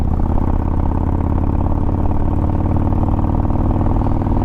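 A Harley-Davidson motorcycle engine runs in sport mode, a loud steady rumbling chug with a lumpy pulsing beat that holds throughout with no talking.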